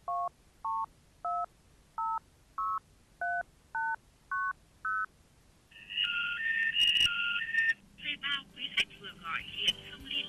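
A telephone keypad is dialed with eight evenly spaced, clear dual tones, followed by a louder ringing or connecting signal with background noise.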